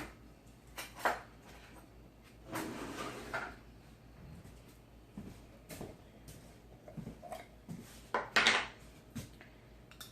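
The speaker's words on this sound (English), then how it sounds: "Let me get a spoon." Cutlery rattles and a kitchen drawer slides and knocks as a spoon is taken out, a few brief clattering bursts close by in a quiet kitchen.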